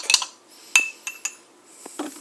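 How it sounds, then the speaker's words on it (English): A spoon clinks against a cup while mixing powdered French vanilla cappuccino with hot kettle water, a few irregular close metallic taps with softer scraping between, no talking. "we put this water from the kettle in here, and we stir it up"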